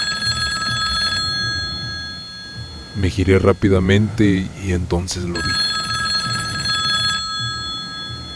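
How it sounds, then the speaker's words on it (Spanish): Telephone bell ringing as a horror-story sound effect, repeated trilling rings that fade out while a narrator speaks over the middle, then resume clearly afterward. "el timbre sonó una vez más, pero esta vez más cerca, como si el teléfono estuviera justo detrás de mí"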